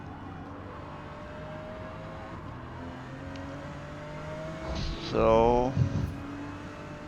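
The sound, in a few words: Porsche GT2 engine revving in Forza Motorsport video game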